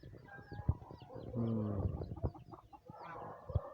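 Hens cluck in short, uneven bursts nearby, with a brief stretch of louder, drawn-out squawking in the middle.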